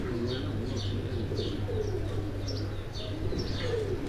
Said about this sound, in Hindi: ये कुछ थोड़े से कबूतर बाहर निकले हुए हैं